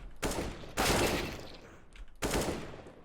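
Rifle fire in CS:GO against bots comes in three separate bursts of rapid gunshots, each with a short tail, fairly quiet overall with gaps between volleys.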